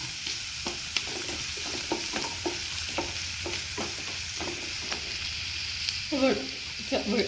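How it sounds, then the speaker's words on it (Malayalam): Ginger and chopped green chilli sizzle in hot oil for a soya fry, with a steady hiss and repeated stirring scrapes, then a louder burst of spattering near the end. "ഇഞ്ചി ഇട്ട് കൊടുക്കാം പച്ചമുളക് അരിഞ്ഞതും കൂടി ഇട്ട് കൊടുക്കാം"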